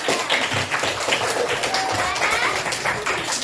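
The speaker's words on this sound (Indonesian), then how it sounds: "Oke, tepuk tangan untuk" Children in a classroom clap together on a teacher's prompt, bursts of fairly loud, uneven handclaps mixed with chatter and voices, continuing through most of the short stretch.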